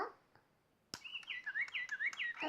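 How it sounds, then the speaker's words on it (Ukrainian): Electronic Digi Birds toy bird singing after a button press, a sharp click followed by a run of bright repeated warbling chirps, close and fairly loud, with no talk over it. "давай подивимося, як співає наша пташка"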